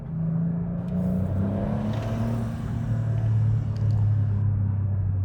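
A Porsche 911 992.2 Carrera 4 GTS T Hybrid in sport mode rumbles from inside the cabin, its engine note rising and shifting through gears in a continuous, fairly loud drone.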